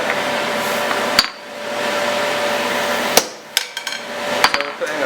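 Heavy hammer blows drive a punch through a hot 5/8-inch square steel bar on an anvil: a few sharp, ringing metallic strikes spaced irregularly, with a quieter cluster of lighter taps near the end, over steady forge background hum.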